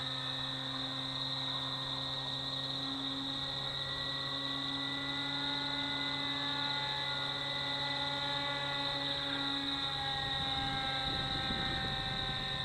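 Electric motor of an FX79 Buffalo RC plane at 60% throttle during a first flight, giving a steady, continuous whine with stable harmonics at a moderate distance and slight pitch drift toward the end.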